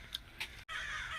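Crows caw twice in a garden, two short separate calls a moment apart, fairly loud against a steady outdoor hiss that cuts out briefly before resuming.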